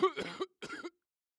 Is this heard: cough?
yes